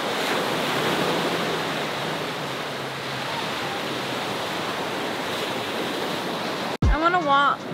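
Ocean waves wash steadily onto a shoreline, a continuous loud surf roar with wind buffeting the microphone, before a brief cut to a person talking at the very end.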